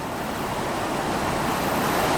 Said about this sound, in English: there's a bunch of water basically coming out of the lock wall